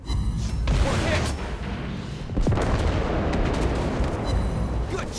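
Shells strike a British battlecruiser in a naval combat game: loud, dense rumbling booms and blasts roll over one another, with sharper impacts near the start and middle.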